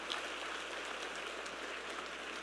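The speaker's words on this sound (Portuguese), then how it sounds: "Pode aplaudir mais forte." Inside a church during a Sunday evening service, the congregation keeps up strong, continuous clapping, a thick and uniform patter of many hands heard without speech.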